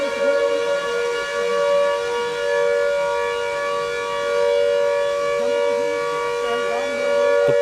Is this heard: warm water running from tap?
no